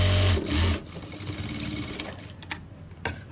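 A sewing machine stitches a rounded seam on white fabric for a pocket, a short loud whirring burst at the start followed by quieter mechanical clicks and faint handling noises.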